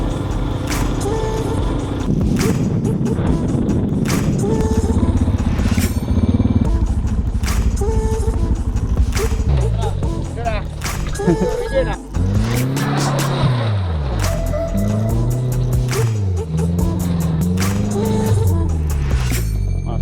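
Motorcycle ridden over rough secondary roads in Borneo: a loud engine drones steadily, then rises and falls in repeated revving surges as the bike works over uneven ground.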